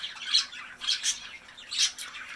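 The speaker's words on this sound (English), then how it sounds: "There's a few of my budgies up there. There's two of my linnies." Pet budgies and linnies in an indoor bird room let out about four sharp, close squawks in quick succession over a quiet background.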